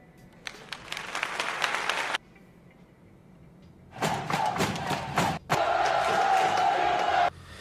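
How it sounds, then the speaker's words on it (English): Arena crowd cheering and applauding in separate bursts, first a clapping and cheering swell, then a pause, then louder roaring waves of shouts and cheers that cut off abruptly. "I'm gonna add crowd sounds, people cheering"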